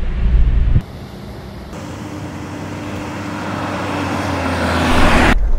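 A Mitsubishi Pajero Sport diesel SUV drives along a flooded road, its steady engine and tyre roar mixed with a broad rush of water that builds gradually.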